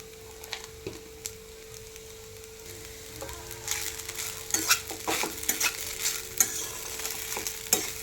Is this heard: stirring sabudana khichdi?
yes